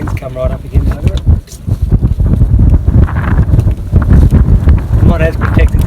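Wind gusts buffet the microphone outdoors in the Australian outback, a loud rumbling roar that surges and dips throughout, with a person talking over it.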